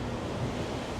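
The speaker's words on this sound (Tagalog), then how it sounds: "Lakas ang hangin mga bossing." Strong wind buffeting the microphone on Fremont Street in downtown Las Vegas, a steady loud rumbling roar for about a second with no voices.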